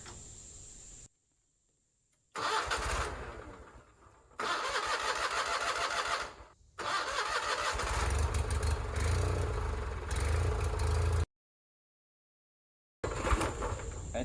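Tractor engine running during a front loader install, a steady mid-pitched motor drone broken by several abrupt cuts to silence and a rough dip as it stalls, then resuming nearby.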